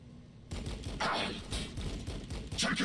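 Rapid bursts of automatic gunfire crackle in a Warhammer 40,000: Battlesector battle, a continuous volley of overlapping shots that starts abruptly and stays dense throughout.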